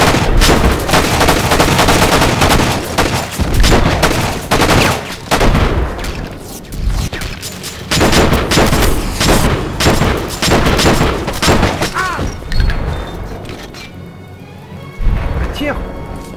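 Rapid bursts of gunfire and impacts in the video game Enter The Matrix, loud and dense throughout, with a player talking over the shots.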